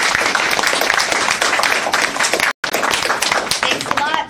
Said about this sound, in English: can we give our guests a big round of applause?